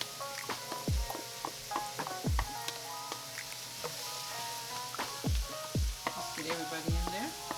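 Chopped green and orange peppers go into a taco chili soup pot and get stirred, giving a soft sizzle with repeated thuds and scrapes from the spoon at a moderate, uneven pace.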